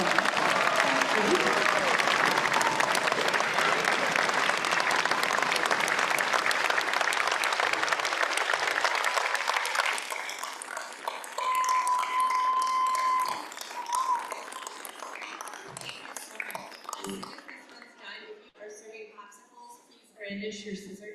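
Audience applause at a school orchestra concert, a full crowd clapping steadily for about ten seconds before thinning into scattered claps, with a brief thank-you and some talk and stage noise as it dies away.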